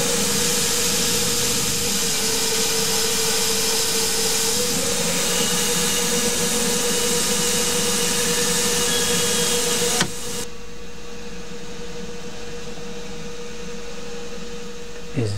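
Reamer cutting a 1/2-inch hole in the head of an M20 bolt on a machine, a loud continuous screeching grind that holds steady for about ten seconds, then drops abruptly to a quieter machine hum.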